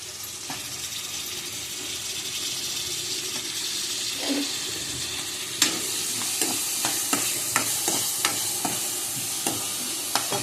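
Chopped tomatoes fry in a hot pan with a constant soft sizzle, while a utensil scrapes and clacks against the pan in a string of sharp stirring knocks that grow denser toward the end; close and alone, no voices.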